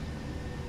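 Boeing 737-800 jet engines spooling to takeoff power, heard as a loud, steady broadband roar filling the cabin with no break.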